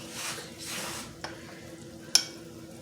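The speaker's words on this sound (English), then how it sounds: "So we're going to let this simmer for about 10 minutes" Ratatouille with tomato sauce bubbling in a pot, a soft sizzling hiss swelling in waves, followed by a couple of sharp clicks of a spoon against the pot, quiet and close with no talk.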